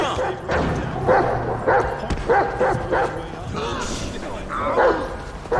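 A dog barks and yips in repeated short bursts throughout, fairly close, with speech mixed in, heard during a War Thunder game session.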